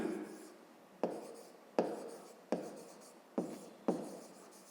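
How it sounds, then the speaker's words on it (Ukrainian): Math equation being written down, six crisp taps of a pen against paper at uneven intervals, each followed by a short scratching stroke, close and quiet in a still room. "Отже, записуємо тоді з умови."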